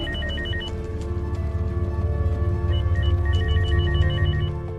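A telephone rings in a tense movie scene set in a stairwell and apartment, repeated trilling bursts of electronic ringing over a low rumbling background, moderately loud and without speech.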